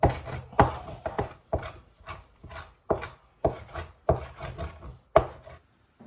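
A rocker knife chops food on a wooden block into small pieces, giving a steady series of sharp, close knocks, roughly two per second, with short scraping rasps between strikes.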